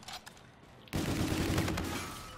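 Gunfire in the video game Call of Duty: Infinite Warfare, a faint shot or two, then a sudden loud burst of dense rapid fire that roars on and slowly tapers off.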